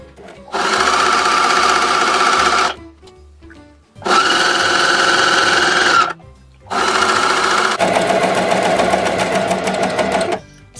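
A coverstitch sewing machine stitches fabric in three loud, rapid bursts of a couple of seconds each, separated by short pauses, close up.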